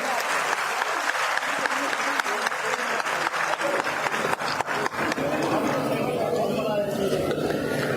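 A women's conference audience in Panchkula claps loudly and steadily, a dense wall of applause with crowd chatter mixed in that stays strong for the whole stretch and thins only slightly toward the end.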